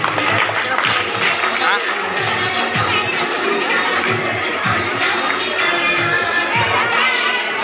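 Children applauding at a Children's Day celebration in a boys' high school, with dense continuous clapping and lively crowd chatter and laughter throughout.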